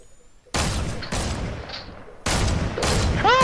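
A pumpkin launcher fires in a video game: four loud, sudden booming blasts in two pairs, each trailing off into a rumbling tail, with a brief rising whistle near the end and no talking.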